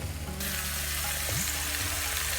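Indian rajma, red kidney beans in a pan, sizzles loudly as it is stirred, a dense hiss that swells suddenly and holds steady, close up, with no voices.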